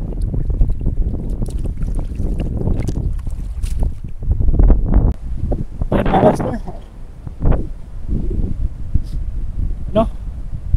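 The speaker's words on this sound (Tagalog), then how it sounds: "Masyadong mahangin na po." Strong wind at a shoreline fishing spot buffets the microphone with a steady low roar and gusty rustling, while people talk over it throughout.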